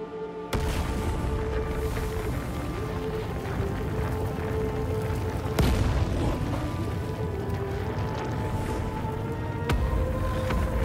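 Cannon blasts in Shadow of the Colossus on PS5: a few sharp, heavy booms at spaced intervals over a dense, continuous game soundscape.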